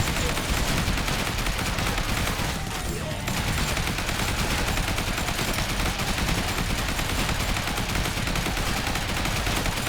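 Rapid, continuous assault rifle fire with an extended magazine in the zombie survival video game Yet Another Zombie Survivors, a dense unbroken barrage of overlapping shots and impacts that runs for the whole stretch.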